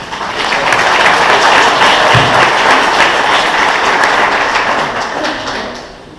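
Town hall audience bursts into sustained applause, loud and dense from the start and holding steady for about six seconds before thinning slightly at the end, with no talking over it.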